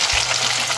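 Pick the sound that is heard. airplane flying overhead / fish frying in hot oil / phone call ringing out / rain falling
fish frying in hot oil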